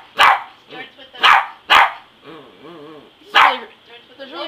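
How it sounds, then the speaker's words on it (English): A dog barks in short sharp bursts, four loud barks spaced irregularly over a few seconds, with softer whines or yips and a person's voice talking in between. "The barking dog."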